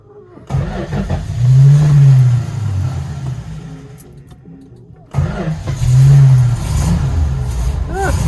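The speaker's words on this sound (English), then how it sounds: "Going to do a cold start on the 69." A 1969 Dodge Charger R/T cranks in two cold start attempts, each with a short rapid churning and then an engine catching into a rising, rough, close rumble that settles into a steady idle, with a voice talking over it.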